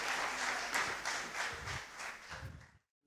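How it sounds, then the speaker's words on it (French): Audience applause at a data conference talk, a moderate steady clapping that fades out after a few seconds. "Merci de vos applaudissements."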